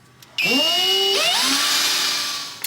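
A power drill whines up sharply, holding a high rising pitch as it bites through metal for about two seconds, then spins down; close and loud.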